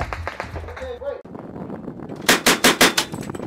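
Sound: gunfire from amphibious assault vehicle weapons at live-fire range

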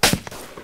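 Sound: SKS rifle gunshot in video game

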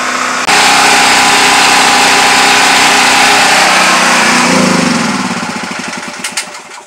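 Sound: DuroMax dual fuel generator engine running on propane

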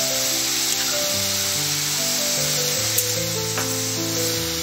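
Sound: stirring spring roll vegetable filling with soy sauce in pan

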